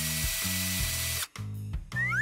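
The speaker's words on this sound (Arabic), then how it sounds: "انا لقيت مفك. يلا نوصل لوح الخشب" Power screwdriver driving screws into a wooden board, with short bursts of whirring motor and pitch steps as it stops and restarts, close and clear with no talk.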